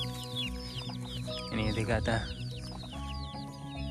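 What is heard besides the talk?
chickens clucking in a field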